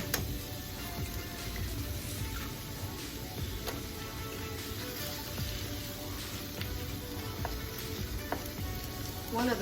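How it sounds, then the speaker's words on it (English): Eggs scrambled into chorizo sizzle in a pan, giving a constant frying hiss with light ticking and occasional clicks from stirring, at moderate volume and without speech. "So then I just kind of scramble them into the chorizo until the eggs are done."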